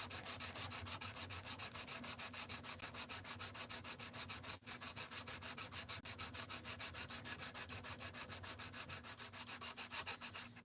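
A D2 steel knife is drawn back and forth across a sharpening stone in a fast, even rhythm of gritty strokes while a burr is being worked up, close and quiet, with one brief pause.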